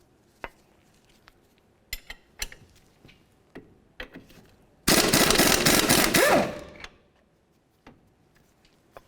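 A wrench and socket work on the 19mm front hub mounting bolts of a 2004-2006 Scion xB: sharp isolated metal clicks and taps, then a loud rattling burst of about a second and a half that fades out.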